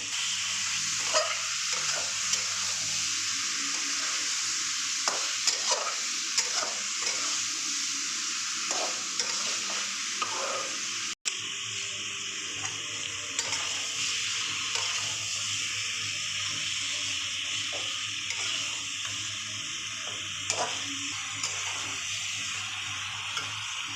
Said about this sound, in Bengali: এই যে আমার মাংসটা কষানো হয়ে গেছে